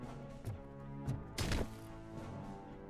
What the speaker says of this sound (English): that thumping sound is literally the body stuck in the floor